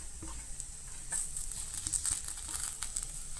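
Vada pav vegetable filling is stirred and mixed in a pan, with soft scraping and light patter over a faint sizzle, quiet and close.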